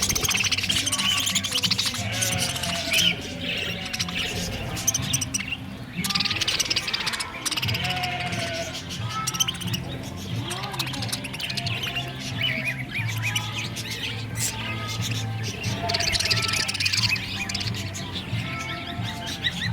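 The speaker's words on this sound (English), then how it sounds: "You think I have enough birds here?" Many budgies and cockatiels in a budgie and parakeet sanctuary at a farm fill the air with a dense, continuous chatter of chirps, warbles and squawks, close and busy throughout.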